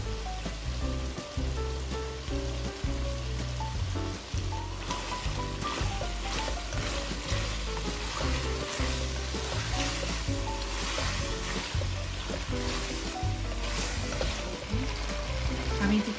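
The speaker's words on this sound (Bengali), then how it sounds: "টমেটো সসটা মিক্স করতেছি একটু।" Tomato sauce being stirred into pasta in a hot pan while making tandoori masala pasta, a steady dense sizzle and crackle with faint scraping, continuous and close.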